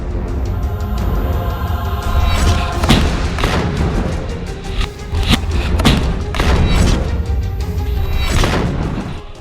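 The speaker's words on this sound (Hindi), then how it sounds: "हमास की अल कसम ब्रिगेड के ये लड़ाके RPG, थर्मोबैरिक ग्रेनेड, रॉकेट से इजरायली सेना पर बेहद पास से हमले कर रहे हैं।" Heavy, continuous booms and thuds roll through a dense, loud battle din as Hamas fighters fire RPGs, thermobaric grenades and rockets at close range in war-torn Gaza.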